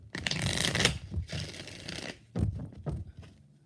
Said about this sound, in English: Let's do one more shuffle.